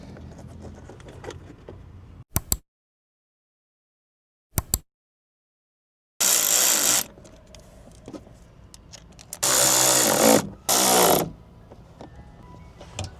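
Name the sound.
driving screws in while installing car speakers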